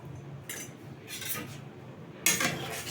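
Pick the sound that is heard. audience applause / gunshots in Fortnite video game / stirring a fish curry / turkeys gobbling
stirring a fish curry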